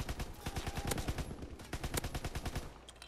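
A Grease Gun fires in the video game Call of Duty: WW2, a fast, steady stream of close automatic shots in long continuous bursts.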